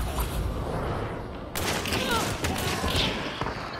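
Shotgun gunfire in the video game Hunt: Showdown, a loud blast cutting through steady background noise at close range, followed by rumbling echoes.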